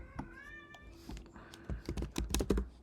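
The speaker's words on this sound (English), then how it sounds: "Just a second, Mr. Cat." A cat gives a drawn-out, rising meow and then a shorter one close to the microphone, followed by a burst of rapid computer keyboard typing.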